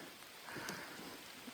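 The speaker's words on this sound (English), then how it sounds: "I'm in a boat in the rain in this river" Steady rain falls on a river around a small boat, a soft continuous hiss of drops on water close by with no voices.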